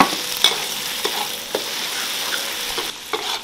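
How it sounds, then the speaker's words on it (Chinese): Lean pork stir-frying in a wok with rendered pork-belly fat, a steady close sizzle broken by sharp scraping stir strokes roughly every half second, no talking. "再把我们的瘦肉倒进来"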